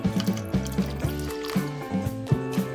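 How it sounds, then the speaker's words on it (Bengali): Water poured into flour batter in a bowl, making close, rhythmic gurgling and plopping sounds while the thick mix is stirred. "এই যে দেখো আবার জল লাগছে আমি আবারও জল দিচ্ছি"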